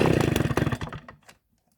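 Stihl 08S chainsaw engine at close range, a loud, rough, rapidly pulsing two-stroke roar that winds down and sputters out within about a second, leaving silence.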